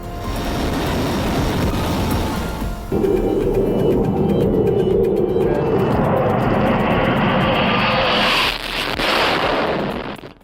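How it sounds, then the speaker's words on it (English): Military jet engines roaring loudly for about ten seconds, a thick sustained rumble that shifts and rises partway through before tapering off at the end, with no voices. "listen to those jet engines"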